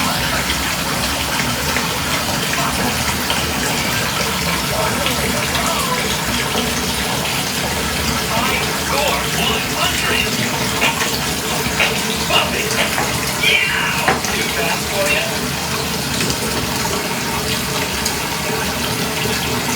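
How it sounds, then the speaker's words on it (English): Liquid being drained off gushes steadily and loudly, like water pouring from a tap, for the whole stretch with little change. "So we're gonna go ahead and drain this off."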